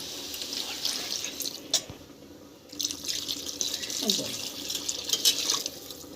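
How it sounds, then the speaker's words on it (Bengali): Water is poured into a Bengali-style chicken stew with turmeric, running and splashing in bursts with a brief pause, close by and moderately loud. "দিয়ে এবার জল ঢেলে দিল"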